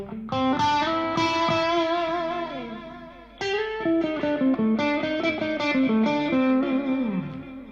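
An overdriven electric guitar played through a Line 6 Helix rings out sustained, gritty chords, struck twice with the notes shifting and fading between strikes.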